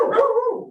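A pet dog lets out a single loud, close bark that drags into a falling, whining tail, heard alone with no talk.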